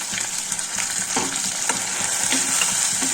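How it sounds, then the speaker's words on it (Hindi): Ginger, about 50 grams, fries in hot ghee in a pan on a gas stove, giving a steady, close sizzle with a few soft stirring scrapes and no talk. "ये अदरक हमारी 50 ग्राम है, तो इसको हम इसमें डाल के थोड़ी देर भूनेंगे"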